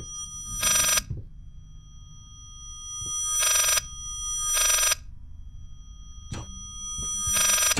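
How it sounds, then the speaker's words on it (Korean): A telephone in the horror game Layers of Fear rings in four or five loud, bright bursts separated by silent gaps, with low ambient noise and thuds between the rings. "전화 소리 같은데?"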